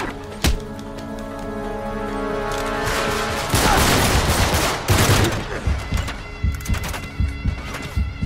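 Gunfire in the Uncharted 3: Drake's Deception video game, a loud crack followed by sustained rapid bursts of shots and booming impacts over a droning game soundtrack.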